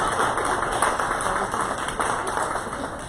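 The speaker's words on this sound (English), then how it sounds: "We'll give you a round of applause" A meeting audience claps for first-time attendees who stand up, a steady wash of applause from many hands throughout, fairly soft and even in level.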